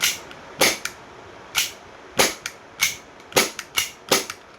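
An E&C Glock 18c gas airsoft pistol fires about nine sharp, snappy pops at an uneven pace, each a crisp close crack with a short hiss, alone in a quiet room.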